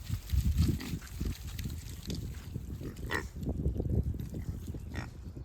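Pigs on a farm grunt and snuffle close by in heavy rain, low rhythmic grunts repeating over a wet, splashy background.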